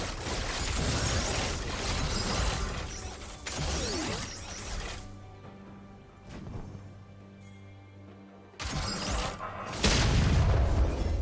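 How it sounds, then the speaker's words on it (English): Booming turret-destruction explosions in League of Legends, a top-lane match between Urgot and Aatrox, arrive as loud broadband blasts at the start, mid-clip and near the end, with game effects and whooshes in between. "Blue team's turret has been destroyed."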